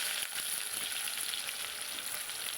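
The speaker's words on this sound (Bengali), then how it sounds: "প্রথমে আমি আলুগুলো ভেজে নেব" Thick-cut potatoes fry in hot oil for a shol fish curry, giving a dense, steady, close sizzle with no pauses and no talking.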